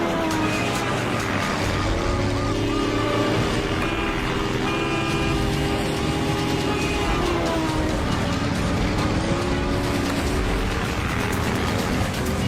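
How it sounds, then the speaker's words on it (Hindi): A car races away during a chase, engine noise mixed with horn toots and dense background clamor, loud and continuous, with voices shouting over it. "चल चल, भगा गाड़ी को"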